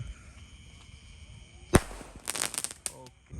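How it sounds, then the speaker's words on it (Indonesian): A Sonic Boom mini launcher firecracker goes off at night with one sharp loud bang, followed by a quick cluster of crackling pops and whistling bursts that fade out. "Ini ada mercon Sonic Boom pelontar mini, kita masukkan."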